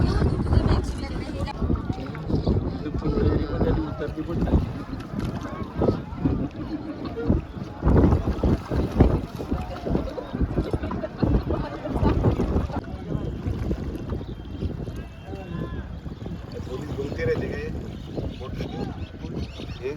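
A speed boat engine drones steadily throughout over wind buffeting the microphone, with people talking nearby on a river.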